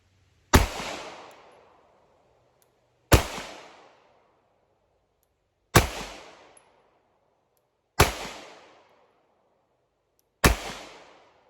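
An FN 509 Tactical pistol fires five sharp, loud shots spaced evenly a couple of seconds apart, each with a short ringing decay into silence.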